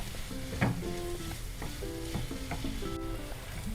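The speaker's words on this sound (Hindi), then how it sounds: "सॉल्ट डालकर आधा मिनट भूनेंगे।" Salted vegetables sauté in a pan for a paneer bhurji, a steady sizzle punctuated by repeated clattering spatula strokes against the metal.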